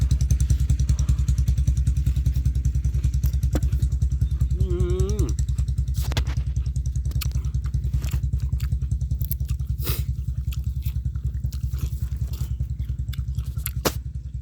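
A tractor engine runs steadily with a low rhythmic chugging drone throughout, close and constant, while a voice speaks briefly over it amid occasional clatter.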